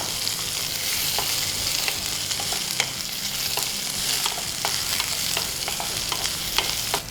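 Chopped onion frying in a pan for a jackfruit seed dish, a continuous bright sizzle with frequent sharp scrapes and taps of a spatula stirring, close and even in level, without speech.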